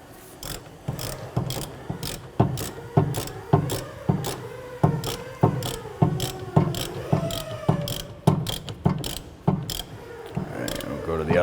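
A ratchet tightens the wheel hub assembly bolts on a 2012-2017 Toyota Camry, giving repeated rapid clicking strokes about once per second, close and crisp, with faint squeaks between strokes.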